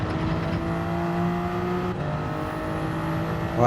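Racing cars in Gran Turismo 7 drone with a steady engine note, holding a sustained tone with a slight shift midway and a faint rise at the end.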